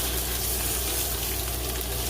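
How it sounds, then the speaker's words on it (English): Slices of Jamaican-style curry fish fry in a pot with a dense, continuous, loud sizzle that holds steady throughout, close up and with no voices. "And I'm just gonna let it fry just a little bit, kind of burn it a little bit."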